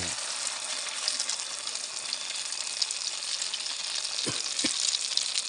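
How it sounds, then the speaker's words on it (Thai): Beaten egg for a Thai omelette frying in a hot pan, a steady broadband sizzle close up and fairly loud, with a couple of faint knocks near the end. "ว้าวไข่เจียวจ้า ไข่เจียวเนาะเดี๋ยวพลิกกลับด้านแป๊บหนึ่งนี่"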